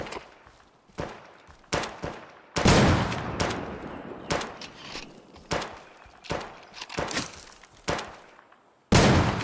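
Gunfire in the video game Deadside, including M99 sniper rifle shots: a dozen or so sharp, loud cracks spaced irregularly, each trailing off, with a dense burst near the start.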